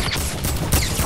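A single gunshot fired in a video game, aimed at two targets emerging from a cornfield, rings out against a dense, noisy backdrop of game sound.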